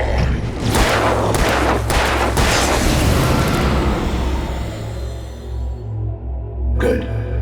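Gunfire in Alan Wake Remastered rings out as a loud run of booming shots in quick succession, then fades into rumbling quiet with one last distant thump near the end.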